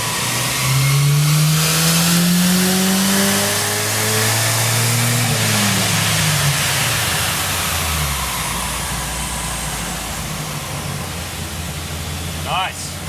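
A modified turbocharged Holden Gemini on a dyno power run, the engine climbing through the revs in a loud rising howl, then easing off into a rushing wind-down, with a voice briefly audible.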